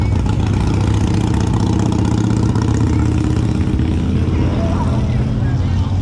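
A steady rumble of motorcycle engines idles and cruises along a busy street at a motorcycle rally, loud and continuous, with crowd chatter mixed in.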